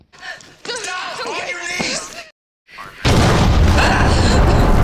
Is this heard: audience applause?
no